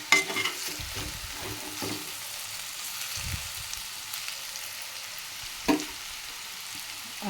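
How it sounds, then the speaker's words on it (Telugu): Chili powder frying in a pan while being stirred, a steady close sizzle with a few scraping stirs and one sharp clack near the end. "ఇదిగోండి కారం, వేసి కొంచెం ఫ్రై చేయాలి,"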